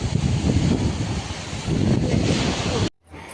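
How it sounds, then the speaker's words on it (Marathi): Strong wind gusts blowing across a beach at Malvan, mixed with surging waves, a loud, continuous roar buffeting the microphone that drops out briefly near the end. "वारा पण जाम सुटला आहे."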